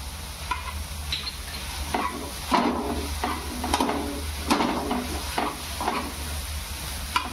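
Garlic-ginger paste goes into a pan of softened onion, capsicum and tomato for masala pav, giving a steady close sizzle broken by repeated scraping stirs of a spoon against the pan.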